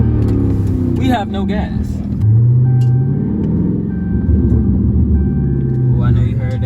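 A Chrysler 300 SRT idles at a gas station with a loud low rumble, rising in a rev, while a voice talks over it; clear exhaust pops are hard to pick out.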